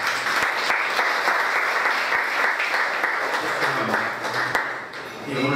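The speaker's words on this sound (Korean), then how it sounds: "여기 크게 한번 박수 한번" Audience applause welcoming guests at a Christian businessmen's association meeting, a sustained full round of clapping from a room of people that stays steady and slightly thins near the end.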